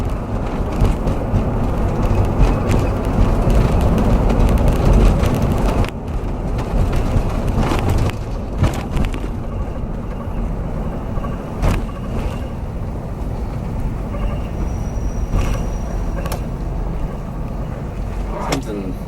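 Steady, loud low rumble from the LT1 V8 swapped into a 1983 Buick LeSabre wagon, cabin-level while driving, with road and wind noise blended in. A few sharp rattles and clicks punctuate the drone, which eases slightly after the first few seconds.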